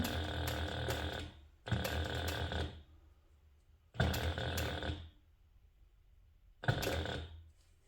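A sewing machine stitches a handbag strap toward a rectangle ring in four separate bursts of a second or so each, with short quiet gaps between them. The runs are loud and mechanical, and no one speaks.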